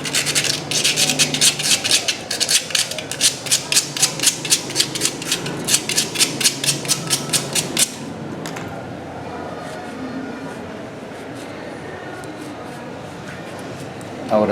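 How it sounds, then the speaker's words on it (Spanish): Rapid rhythmic scraping of sandpaper on the rusty metal thread of a motorcycle spark plug, steady strokes for several seconds, then it stops and a voice continues over quiet background. "Si la parte de la rosca se encuentra con óxido, también lo podemos lijar"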